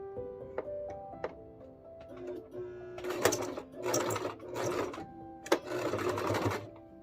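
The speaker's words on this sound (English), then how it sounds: "We're going to stop right here, and then we're going to back stitch it" A sewing machine stitches fabric for holiday plate mats, then runs in reverse to back-stitch, giving several close, loud bursts of rapid mechanical stitching with brief pauses after a few quiet clicks.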